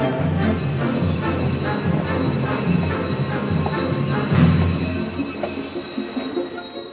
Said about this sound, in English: Our train is now going around this loop to return to Skagway.